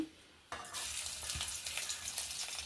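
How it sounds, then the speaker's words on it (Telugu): Ginger paste hits hot leftover fish-fry oil and breaks into a sudden bright sizzle that keeps crackling steadily at close range, after a quiet moment. "ఆ నూనె వేసుకుంటున్నాను చూడండి అల్లం తొక్కు వేస్తున్నాను"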